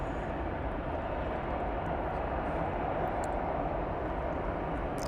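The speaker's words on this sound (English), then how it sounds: "Ryanair coming in from Tenerife." A Ryanair airliner on short final into Cologne Bonn Airport produces a steady, loud broadband jet roar throughout, heard from outdoors with no talking.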